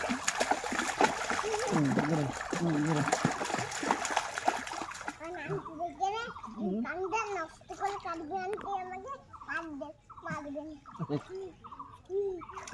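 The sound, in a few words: child splashing while learning to swim in village pond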